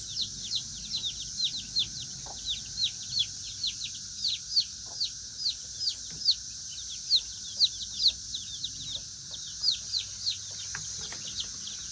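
Backyard hens and chicks in a coop, giving rapid rhythmic high peeps and soft clucks in repeated bursts throughout, fairly close and moderately loud over a quiet background.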